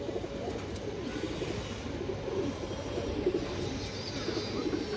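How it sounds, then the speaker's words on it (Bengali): A female pigeon coos in soft, low, repeated murmurs close by, over a steady background hum. "একটা মাদি কৌতার অনেক ভালো একটা মাদি"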